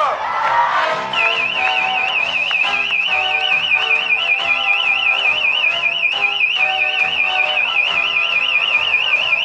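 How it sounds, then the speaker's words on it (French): A smoke detector's high, warbling electronic alarm sounds continuously and insistently over loud background music at a wedding reception, its pitch wobbling rapidly up and down. "Ah, c'est les détecteurs de fumée."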